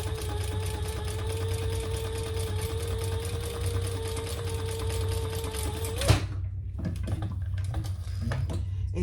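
A sewing machine stitches a vinyl handbag in a steady, fast mechanical whir for about six seconds, then stops abruptly, leaving faint clicks and handling sounds.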